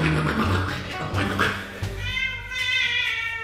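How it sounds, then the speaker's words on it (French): A cat meows in drawn-out, wavering cries near the end, after a stretch of muffled indoor movement and soft thumps. "Ah, il y a 2-3 petites différences de miaulement."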